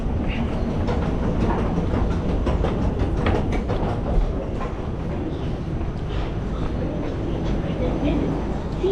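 A train in Kuala Lumpur rumbles steadily along the rails with a continuous roar and rhythmic clatter, loud and close, with voices mixed in underneath.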